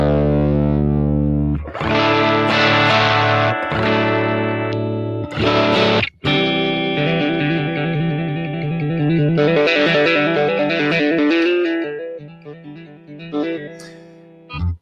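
A prototype Lauda electric guitar plays through a simulated Fender tweed amp with a fake microphone setup. Loud, distorted chords ring out in bursts, then a busier run of notes follows and trails off.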